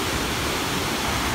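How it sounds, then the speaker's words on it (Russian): A noisy, turbulent stream rushes downhill from a disused hydroelectric dam in Altai, giving a loud, continuous, broadband roar of water close by with no voices. "шумный бурный поток туда вниз."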